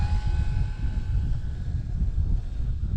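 An FMS PA-18 Super Cub 1300mm RC plane comes in to land in high wind, a steady low engine and wind rumble with a faint whine holding throughout.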